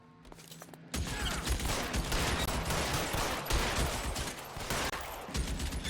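Dense, sustained gunfire from the crime game L.A. Noire, a loud continuous barrage of overlapping shots that starts abruptly and keeps going without a break.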